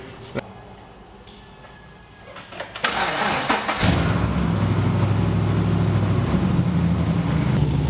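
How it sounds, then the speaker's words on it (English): A few clicks and a brief cranking whir, then a Genesis car engine catches and settles into a steady, loud idle. "So we're gonna give the car a start, and then hopefully it runs good."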